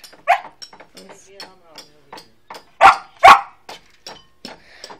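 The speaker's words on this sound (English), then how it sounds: "Here's my dog's barking at us because no reason." Dog barking around a tent, a few sharp yips and barks among whimpers, two louder barks standing out near the middle, with a person speaking intermittently.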